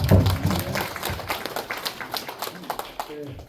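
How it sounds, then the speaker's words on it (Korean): Scattered clapping at a residents' briefing for an apartment complex, loud and close at first, then irregular and fading, with voices mixed in underneath. "다시 한번 뜨거운 박수 부탁드립니다"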